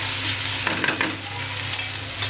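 Homemade turmeric powder frying in hot oil in a pan, a constant close sizzle with a few scraping stirs and crackles breaking through.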